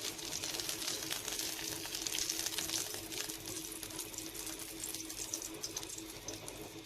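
Freshly fried onions sit in a metal strainer as hot oil drips and drains off, giving a steady, soft hiss and trickle like running water that continues without pause and without voices.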